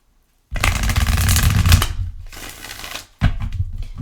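Tarot cards being shuffled and drawn: a dense riffling burst lasting over a second, a softer stretch of card shuffling, then a short sharp snap after a brief pause. The sounds are close and loud, with no talking.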